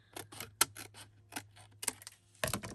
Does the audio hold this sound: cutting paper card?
yes